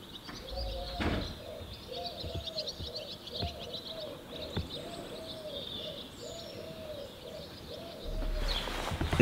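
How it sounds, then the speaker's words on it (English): An unidentified bird repeats a soft, even hooting coo about once a second in the morning near a village by a viaduct, faint under wind and ambient noise, with a few knocks and a louder rustle at the end. "What kind of bird is it that does that?"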